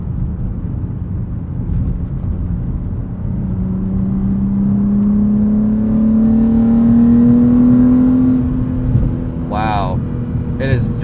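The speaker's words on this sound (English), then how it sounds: "Auto rev matching is pretty good on this." The engine of a 2022 BMW M3 with a manual gearbox and automatic rev matching hums from the cabin and climbs steadily in pitch as it revs, while occupants talk over it.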